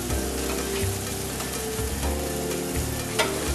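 Buttered corn on the cob sizzles on a hot grill, a dense steady crackle and hiss with occasional pops, close and constant, with no talking.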